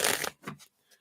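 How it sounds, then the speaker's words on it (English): Tarot cards shuffled by hand during a live reading: a couple of short, papery riffling bursts, the first longer and louder, then a faint flick, close and quiet with no talking. "One more shuffle."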